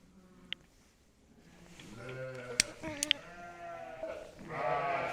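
A ram lamb bleats during ear tagging on a sheep farm, a few wavering cries rising over quieter handling noise, with brief sharp clicks from the tagging.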